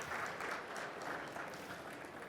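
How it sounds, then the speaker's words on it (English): Applause from a conference audience fills the room for a couple of seconds, a steady, fairly quiet wash of many hands clapping at a distance. "Quick round of applause for JF and welcome him to the AppD family."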